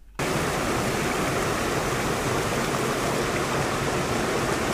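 A waterfall beside a forest river roars as a steady, dense wash of falling water, loud and close, filling the whole clip without a break after a brief silent start.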